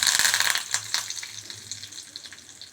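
Dried chili, mustard seeds and curry leaves hit hot oil for a buttermilk curry, a loud burst of crackling sizzle that gradually fades and thins over a few seconds, close and without talk.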